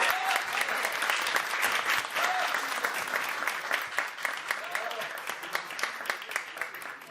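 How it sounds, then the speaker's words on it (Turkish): An audience at a foundation's iftar dinner applauds a newly re-elected chairman with sustained, full clapping, and a voice briefly calls out under it. "Ona bir kocaman alkış almak istiyorum."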